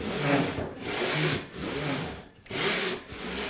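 A hand saw resaws a wide wooden board in long, even push-and-pull strokes, a loud close rasping that rises and falls rhythmically with short pauses between strokes.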